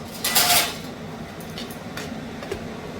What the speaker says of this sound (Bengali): এবার আমি এটা ঢাকা দিয়ে দেব কিছুক্ষণের জন্য